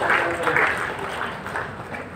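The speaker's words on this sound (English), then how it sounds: "Shall we clap before the Lord and praise the Lord?" A retreat congregation claps together in a dense, continuous patter that fades slightly toward the end, with voices mixed in.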